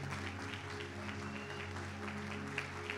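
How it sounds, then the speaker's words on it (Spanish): Church congregation applauding together during a worship service, a steady dense clapping texture running throughout at moderate level over sustained low instrumental tones. "Lo celebramos con un hermoso aplauso."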